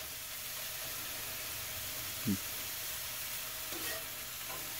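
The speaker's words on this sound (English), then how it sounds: "Sauteed in butter." Butter sizzling softly in a cast iron skillet as food sautés, a steady faint frying hiss with one brief louder crackle midway.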